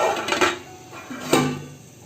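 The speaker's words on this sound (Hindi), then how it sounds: "अब इसे हम ढाँप देंगे" A lid goes onto a cooking pot of potato and egg curry with yogurt, two metallic clanks close by, the second sharper and ringing briefly before fading.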